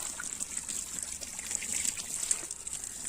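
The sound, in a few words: watering newly sown winged bean seeds lightly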